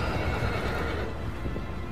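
Horse neighing with clip-clop hooves in the Shadow of the Colossus video game, a steady, fairly loud burst of whinny over galloping hoofbeats, no voices.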